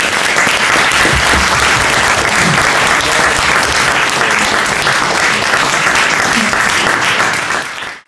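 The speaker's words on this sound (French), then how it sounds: "Je crois qu'on peut applaudir." Audience applauding at a prize-giving evening for a prison writing competition, steady dense clapping from a large crowd that holds for several seconds before cutting off.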